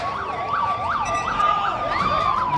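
A fire engine siren wails in steady rising-and-falling sweeps during a joint disaster response and fire control drill at Taumadhi in Bhaktapur. It is loud and continuous with no voices.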